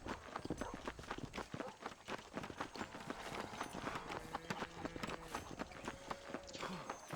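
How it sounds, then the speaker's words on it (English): Horse hooves clip-clop on the ground in Red Dead Redemption. The steady, rhythmic trotting stays close and even throughout, over faint background game tones. "Voy a tomar de vuelta mi caballo"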